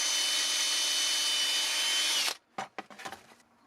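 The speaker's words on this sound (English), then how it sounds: "you can take your drill and just drill the hole somewhere in here" Power drill boring a hole through the wooden hand of a canoe paddler whirligig figure, a loud steady whine for over two seconds that stops abruptly, followed by a few short clicks and taps.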